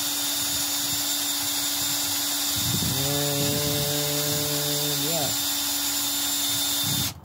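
An electric drill whirs steadily for about two seconds, spinning the oil pump of a failed Rover 4.0L engine, a level motor whine over a constant background hum, with a brief spoken remark.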